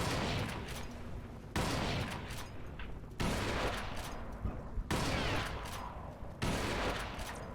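Rapid automatic gunfire in Crysis Warhead comes in four loud, dense bursts separated by abrupt cuts, each burst a harsh crackling fusillade with faint background talk.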